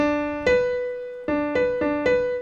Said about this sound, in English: That's what a major sixth sounds like.